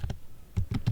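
Fingers typing on a computer keyboard while entering HTML code, a handful of close, crisp key taps in an uneven rhythm.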